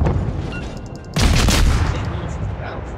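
Heavy cruiser naval gunfire in the video game World of Warships: a low background rumble breaks into a sudden loud, booming burst about a third of the way in, then rolls on as a sustained, slowly fading roar.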